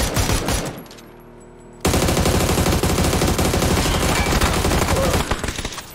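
Rapid, sustained automatic gunfire in the video game PUBG, blasting after a brief lull, loud and continuous with a few scattered shots at the start.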